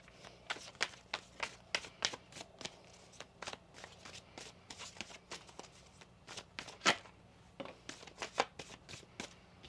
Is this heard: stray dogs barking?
no